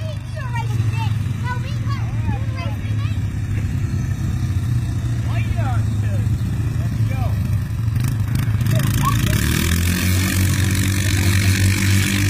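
Quad ATV engines rev and drone steadily as two riders race, a continuous mid-pitched motor roar with shifting throttle, while people talk and shout over the engine noise nearby.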